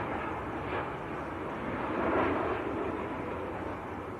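A Ryanair airliner at Manchester Airport gives off a steady, moderately distant jet roar that rises briefly toward the middle and then eases off.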